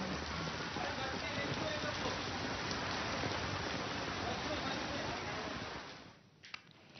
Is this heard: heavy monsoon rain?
yes